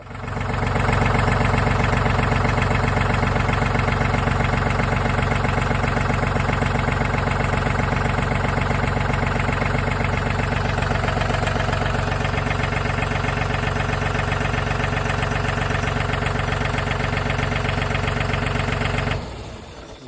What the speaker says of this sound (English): I better get in the tractor again and try and move this forward